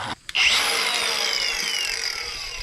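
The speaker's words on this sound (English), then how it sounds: "next step in the process, pulling the wire out. Using the saw." Sawzall reciprocating saw with a very dull blade cutting through a bundle of data center wire, a loud, close, continuous rasping roar that starts abruptly after a brief stutter and holds steady.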